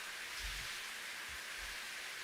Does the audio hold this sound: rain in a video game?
yes